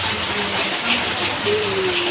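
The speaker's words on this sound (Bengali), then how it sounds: "বৃষ্টিতে এখনো কমার নাম নেই, আবার বৃষ্টিটা পড়ে গেল।" Steady rain falls outdoors on an election day, a close, continuous wash of patter with faint tonal hums running through it and no clear speech.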